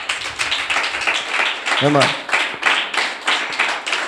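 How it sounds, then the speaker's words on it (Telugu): A congregation at a church service claps together in a dense, rapid patter of hands that continues throughout, with a voice speaking over it briefly. "చప్పట్లు కొట్టరు అందరూ ఒకసారి"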